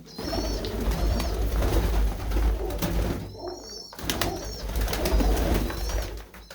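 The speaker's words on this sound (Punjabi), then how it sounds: "ਦਿਖਾਉਂਦੇ ਆ ਤੁਹਾਨੂੰ ਕਬੂਤਰ ਬਹੁਤ ਹੀ ਵਧੀਆ ਵਧੀਆ ਨਸਲ ਦੇ ਪਰਿੰਦੇ ਨੇ" Fine-breed pigeons in a dark coop coo repeatedly, a close, soft rolling murmur that swells and fades in waves, with a short lull in the middle before several birds resume together.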